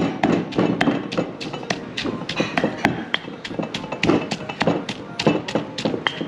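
A pestle pounds Thai cooking ingredients in a mortar during a cooking class in Chiang Mai, a fast, steady run of sharp thuds repeating close up for several seconds with no talk.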